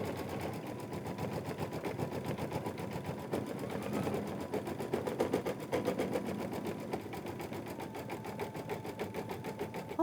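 An embroidery machine stitches out a fill design in a fast, steady mechanical chatter that runs without pause at close range, with no talking.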